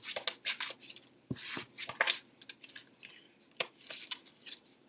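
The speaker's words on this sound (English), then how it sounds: "Can't talk and shuffle at the same time." Tarot cards are shuffled by hand up close, giving a run of quick crisp riffles and soft slaps in irregular bursts, with short pauses between them and no voices.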